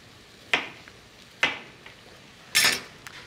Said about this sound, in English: Peel it clean and then cut it into, oh, like 1/2-inch discs.